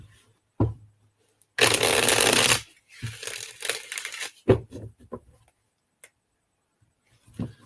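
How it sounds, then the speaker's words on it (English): Playing cards riffle-shuffled by hand, a dense one-second burst of fluttering flicks followed by softer taps and shuffles as the deck is squared, close and fairly loud with quiet pauses between. "let me get one more shuffle in there for Miss Nancy."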